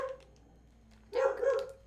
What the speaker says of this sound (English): do you have to bark right outside my door?